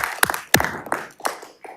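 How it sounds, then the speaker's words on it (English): Scattered claps ring out at a school board meeting, a few separate bursts of handclaps rising and fading rather than sustained applause, fairly close and with no talk over them. "let's give one more round of applause"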